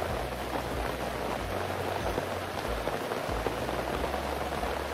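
Steady rain patters on a surface nearby at a lakeside campsite in the Adirondacks, a continuous dense hiss of drops with faint low rumbling underneath and no voices.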